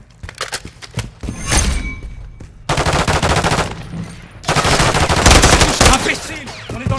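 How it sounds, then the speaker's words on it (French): Machine gun fire rattles in Call of Duty: Modern Warfare III on PS5, loud sustained bursts of rapid shots with heavier thuds and impacts between them, close and dense, in a multiplayer battle on the Terminal map. "J'essuie des tirs."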